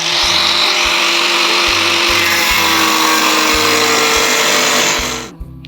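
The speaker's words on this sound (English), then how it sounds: "I'm busy trying to cut this one here using the angle grinder." An angle grinder cuts through thick metal about 4mm thick, a loud, continuous high-pitched whine with a low intermittent thumping beneath, running steadily for about five seconds before spinning down and stopping.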